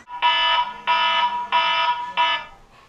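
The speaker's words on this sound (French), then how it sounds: "J'ai déclenché l'alarme des secrets" Loud electronic alarm sounding in four even, sustained bursts of about half a second each, separated by short gaps, with no talking.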